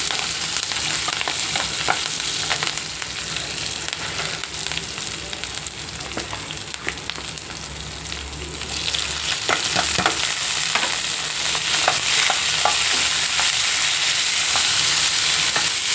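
Onion, curry leaves, dried red chillies and green chillies frying in hot oil for a green-pea fry, a steady loud sizzle throughout with scattered stirring scrapes, close up.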